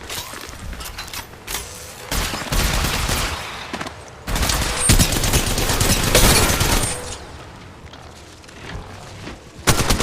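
Rapid gunfire bursts crackle through an Apex Legends Mobile match, loud stuttering volleys alternating with brief lulls and mechanical clatter, ending in a sharp burst.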